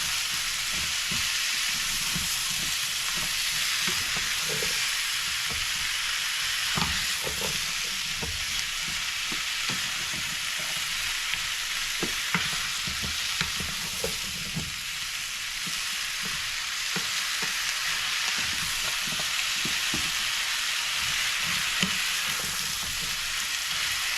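Pumpkin seasoned with tagine sizzles in butter in a pan while being stirred, a steady hiss of frying broken by repeated scraping and tapping of a utensil, close and continuous with no voices.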